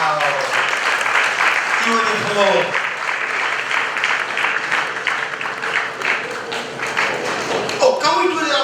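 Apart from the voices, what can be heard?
audience applause at a graduation ceremony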